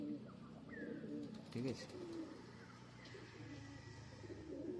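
Pigeons coo softly in repeated low, rolling calls at a middle distance. Someone speaks briefly over them, and faint background noise runs underneath.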